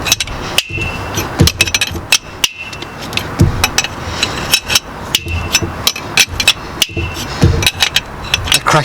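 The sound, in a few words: seized glow plug cracking as it is extracted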